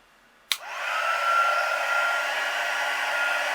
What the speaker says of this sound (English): So I'll get my heat tool,